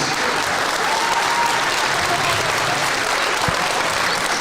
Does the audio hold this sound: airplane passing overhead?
no